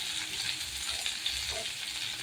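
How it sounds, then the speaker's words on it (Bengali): Taro (kochu) pieces frying in oil, a continuous soft crackling sizzle, close and even, with no talk. "এই যে দেখুন এখানে ভাজা হচ্ছে, এখানে কচুটাকে একটু তেলের উপরে ভেজে নিই"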